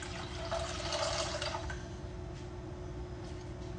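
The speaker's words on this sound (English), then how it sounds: "I pour it into the bottom of my crock pot" Canned liquid pours into the bottom of a crock pot, a soft continuous splashing and trickling that is strongest early, then settles into a quieter steady flow with no talk.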